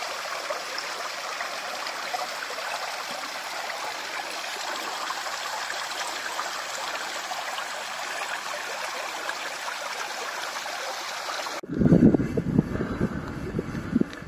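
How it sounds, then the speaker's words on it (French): A small stream running through woods, a steady close rushing and trickling of water that continues evenly for most of the stretch before cutting abruptly to a different, lower sound near the end. "Sur le côté, là dans les bois, il y a un autre ruisseau qui arrive."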